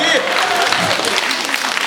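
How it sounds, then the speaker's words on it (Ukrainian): A short burst of dense, steady applause from a sizable crowd, loud and close, with no gaps. "бурхливі оплески для Вінницької області"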